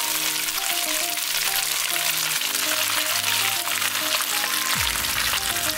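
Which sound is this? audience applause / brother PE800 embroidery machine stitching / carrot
carrot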